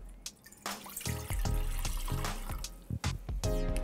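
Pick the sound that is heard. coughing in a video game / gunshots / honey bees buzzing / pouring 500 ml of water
pouring 500 ml of water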